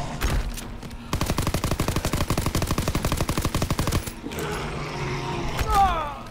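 Rapid machine gun fire in Call of Duty WWII Zombies mode, a loud sustained burst of evenly spaced shots lasting about three seconds, preceded and followed by scattered gunfire and game clatter.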